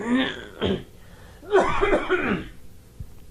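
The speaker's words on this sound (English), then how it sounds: "When I clear my throat, I wonder what that is." Throat clearing and coughing by a man, a short rough clear followed by a longer burst of raspy coughs and throat noises, close and fairly loud.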